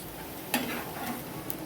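Thalipeeth roasting crisp in oil on a griddle, a soft steady sizzle and crackle with a light clink partway through, close and low in level, no talking.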